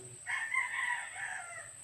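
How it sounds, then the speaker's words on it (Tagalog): A wild rooster crows once in a long, drawn-out call, a bit distant, over a low steady background hum. "Yan, may mga manok diri nga ihalas ba."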